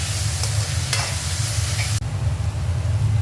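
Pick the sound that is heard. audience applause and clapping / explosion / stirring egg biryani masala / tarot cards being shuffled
stirring egg biryani masala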